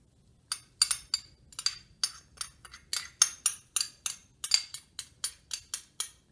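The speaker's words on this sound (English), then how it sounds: "we're just going to go ahead and stir our ingredients all together" A spoon clinks sharply against a bowl while veggie dip with lime, summer savory, salt, garlic powder, fresh parsley and onion powder is stirred, giving a steady run of close, bright taps, about three per second, with no talk.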